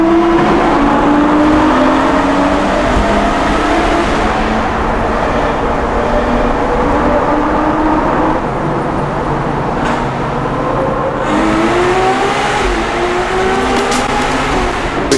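A Ferrari 812 Superfast V12 revving and pulling hard, engine pitch climbing and dipping over a sustained loud roar with wind and road rush, no speech.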